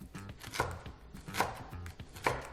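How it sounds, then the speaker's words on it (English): Garlic being chopped with a knife on a cutting board, a series of crisp close thuds at a steady rhythm, roughly three strong strikes amid lighter taps, with no talking. "Chop the garlic, then cut the vegetables into bite-sized pieces"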